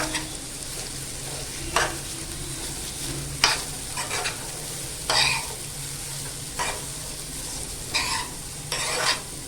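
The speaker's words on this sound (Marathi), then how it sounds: "आपण हे रताळ्याचं पीस टाकून घेऊया तो आपण ना तुपावर छान असा परतून घेऊया" Sweet potato pieces sauté in hot ghee for a sweet potato kheer, a steady close sizzle broken by several scraping stirs of a spatula at regular intervals, with no voices.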